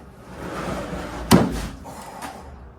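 A bookshelf holding a manga and anime collection is lowered and slammed down, giving one loud wooden thud mid-way, followed by a softer knock and shuffling room noise.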